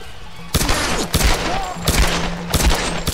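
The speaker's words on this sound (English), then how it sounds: "How many frickin' shots does it take, you a-hole?" Bursts of gunfire in Tomb Raider: Definitive Edition, four loud volleys spaced about half a second apart, each a cluster of sharp cracks, with faint game ambience between them.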